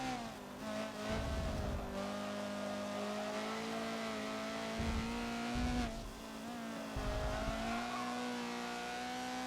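Honda CRX engine in Forza on the COTA West track, a high buzzing drone with revs climbing, dropping and climbing again through downshifts, with low thumps and brief tire noise.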